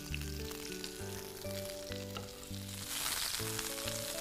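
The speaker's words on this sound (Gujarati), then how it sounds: "એકદમ બદામી રંગની થાય એવી એને સાંતળી લેવાની છે" Thinly sliced large onion sautéing in hot ghee and oil for ghee pulao, a steady close sizzle and crackle running throughout, rising slightly louder toward the end, with a sustained musical tone layered over it.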